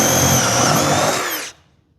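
A jigsaw cutting through a CJ7 fiberglass firewall: a loud, close, high-pitched buzzing saw whine that holds steady for about a second and a half, then cuts off abruptly, leaving near silence.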